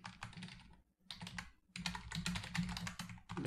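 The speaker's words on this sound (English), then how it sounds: "Type again." Fingers type rapidly on a computer keyboard up close, dense bursts of clicking keystrokes separated by two short pauses, with no voices.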